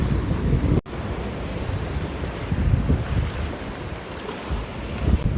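Sea waves wash over rocks on a Konkan beach, a steady rushing surge of water mixed with wind buffeting the microphone, loud and continuous throughout with no voices.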